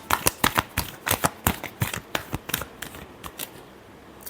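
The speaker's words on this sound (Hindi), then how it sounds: "last shuffle" A deck of tarot cards is riffled and shuffled in quick bursts of crisp, papery flutters and snaps, close and fairly loud, trailing off into quieter rustling toward the end.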